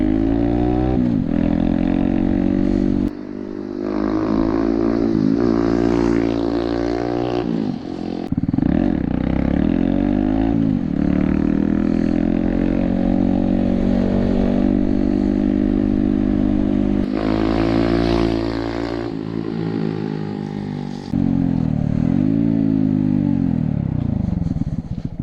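A Honda Grom motorcycle fitted with a Zoom exhaust passes by at speed, its loud buzzing engine note rising and falling through several gear changes and swells, continuous and close throughout.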